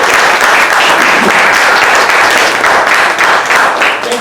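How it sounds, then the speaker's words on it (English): Loud, dense applause from an audience at a community meeting about the historic Old Monterey County Alisal Jail in Salinas, California, filling the whole stretch with sustained clapping. "Give him a round of applause, Kevin Day."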